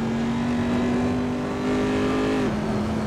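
Corvette C7R race car in Assetto Corsa screaming at high revs past 155 mph, one steady loud engine note held for about two and a half seconds before it drops with a gear change, then carries on.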